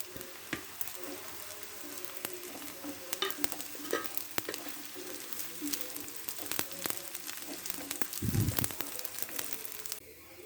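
Crushed dried meat fries with browned onions in a pan, giving a soft, steady sizzle broken by repeated scraping stirs and a heavier knock near the end.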